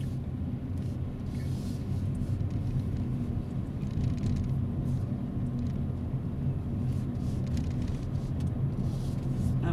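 Road traffic passing on a street at night, heard from inside a moving vehicle: a steady, loud low rumble of engines and tyres continuing throughout without clear individual pass-bys.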